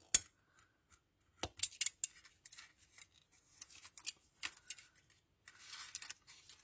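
Scissors snip a small paper strip for a handbag craft, producing a few faint, sparse, crisp cuts and light rustles in a quiet room.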